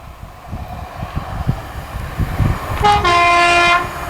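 A passing Arriva Trains Wales train rumbles by with rail clatter, then sounds a loud two-tone horn, a sustained blast of two notes heard close near the end, with no talk.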